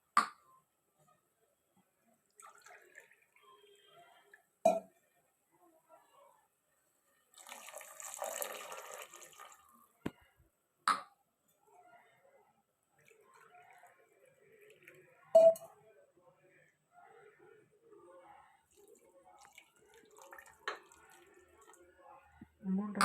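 Water poured into a pressure cooker while cooking mushroom biryani, heard as quiet splashing and trickling in short bursts between clinks and small kitchen noises, with a louder pour in the middle.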